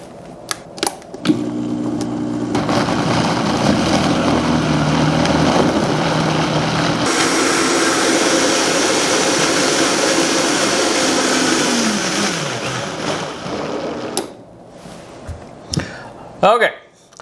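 A countertop blender mixes a thick vegan malt chocolate green smoothie, a loud close motor roar that runs for about thirteen seconds, strains and slows, then stops before a few clunks and a short voice.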